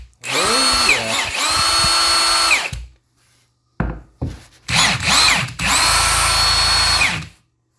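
A repaired Milwaukee M18 cordless drill runs in loud whirring bursts, spinning up, stopping, then revving again in short and long pulls with brief pauses between, no talk.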